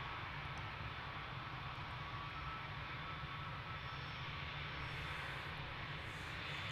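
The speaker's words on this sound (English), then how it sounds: "Off to Gran Canaria for this latest easyJet departure." An easyJet jet airliner departs London Gatwick, heard as a steady, distant rumbling roar of jet engines that stays fairly faint and even throughout.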